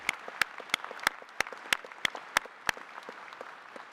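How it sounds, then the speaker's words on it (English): A university spring convocation audience applauds for Terry, the clapping fairly soft and distant, with regular sharper claps standing out from nearby hands at an even rhythm. "Let us give Terry a round of applause."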